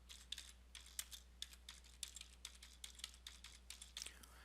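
Fingers tap steadily on a computer keyboard at a quick, uneven pace, with crisp, close keystrokes over a low, constant hum.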